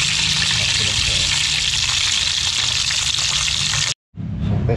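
Water pours steadily into a cooking pot of golden-browned vegetables with bagoong for an Ilocano dish, a loud continuous gush lasting about four seconds before stopping abruptly, then resuming briefly.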